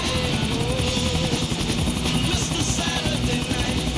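A helicopter flies over a city of tall skyscrapers in the video game Grand Theft Auto 4, its rotor giving a loud, steady, rhythmic thudding buzz with no talk over it.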